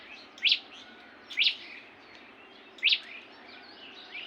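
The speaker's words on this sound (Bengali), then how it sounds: "সকালে শুধু উঠাই আমার পাখির কিচিরমিচির শব্দ শোনার জন্য।" A bird gives three sharp, bright chirps spaced about a second apart in the morning near a rooftop garden with lemon trees, clear against a quiet background hiss.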